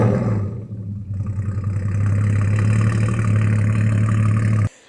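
A Porsche Cayman with decat headers and a straight-through exhaust drones loud and close at a steady low idle for several seconds, then cuts off abruptly.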